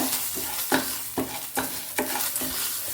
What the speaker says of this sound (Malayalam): അതിലേക്ക് കഴുകി വെച്ചിരിക്കുന്ന അരി ഇട്ട് കൊടുക്കാം എന്നിട്ട് നന്നായിട്ടൊന്ന് വറുത്തെടുക്കണം